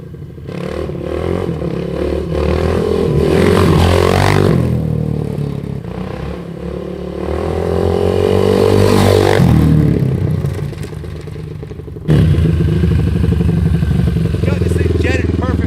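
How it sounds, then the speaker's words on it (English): A 1997 KTM 620 LC4 single-cylinder motorcycle engine revs hard and loud during a wheelie, its pitch rising and falling in long surges with a brief drop near the end, close and continuous. "He's just gonna wheelie one more time."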